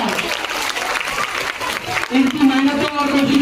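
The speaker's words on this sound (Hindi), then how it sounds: "जोरदार तालियां एक बार" At a school annual day celebration, an audience claps in a steady, dense stream of applause, with a voice speaking over it and a sustained musical tone entering partway through.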